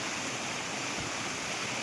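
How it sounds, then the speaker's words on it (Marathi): A rain-swollen stream in the first monsoon rain rushes steadily, with its milky white water giving a dense, even hiss at close range and no other sounds. "पाण्याचा प्रवाह बघू शकता"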